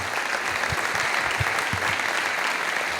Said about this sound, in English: please join me in giving our President's Circle sponsors a round of applause.